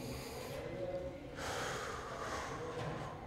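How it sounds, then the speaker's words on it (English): Deep meditative breathing, drawn in through the nose and let out through the mouth: a soft inhale followed by a louder, breathy exhale, close and alone. "you're breathing in through your nose,"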